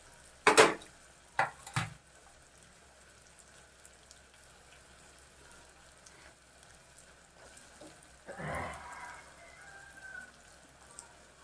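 Onion frying in a pan for pav bhaji gives a low, steady sizzle, broken by a few sharp clinks of stirring near the start and a brief louder scrape and hiss later on.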